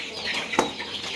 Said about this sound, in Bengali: এই হচ্ছে মুরগির অবস্থা।